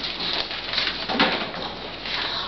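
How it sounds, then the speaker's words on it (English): Birds call in a garden, with soft cooing like pigeons or doves over a steady hiss of background noise, faint and fairly distant. "All around you can hear birds singing in the garden."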